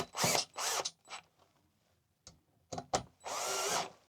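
A cordless drill with a bit drives screws to lock down an outdoor ceiling fan mount, giving short separate whirring bursts with quiet pauses between, fairly soft and close.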